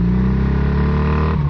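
A 440 motorcycle engine idles with a steady, buzzy, scooter-like exhaust drone, close and loud, holding a rough rhythmic putter throughout.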